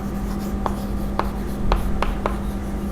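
A chalk or marker scrapes across a board while a journal entry is written out for an accounting lesson, five short distinct strokes spaced about half a second apart over a steady low hum, close and fairly loud.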